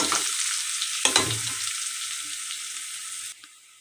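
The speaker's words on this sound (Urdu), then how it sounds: "اب ہم ڈالیں گے لہسن ادرک کا پیسٹ 1 چمچ۔ اس کو اچھی طرح بھونیں گے 2 سے 3 منٹ۔" Garlic ginger paste sizzles with browned onions in a hot pan, a steady loud frying hiss with a few stirring clunks, easing off toward the end.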